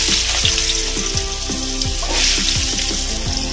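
Cut potatoes tossed into hot oil already seasoned with bay leaf and whole cumin, for a fish-head and bottle-gourd curry, crackle and sizzle loudly up close, with repeated spatula scrapes and stirs and no talking.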